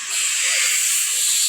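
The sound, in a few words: pitha cakes frying in oil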